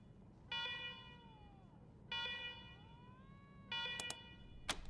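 Electronic security alarms in the post-apocalyptic game Wasteland 3, sounding in three separate harmonic bursts with sliding, wailing tones, followed by a few sharp clicks near the end.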